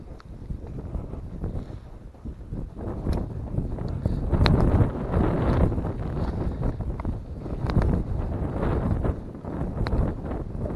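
Steady wind buffeting the microphone, with loud low rumbling gusts that swell and ease throughout.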